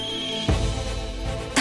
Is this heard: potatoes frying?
no